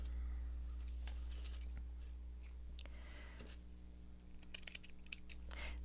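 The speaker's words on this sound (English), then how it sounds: "Let's cut this doily." Scissors cut through a heavily starched lace doily with faint, crisp snips and rustles close by over a steady low hum, the crunchy cuts clustering in short bursts.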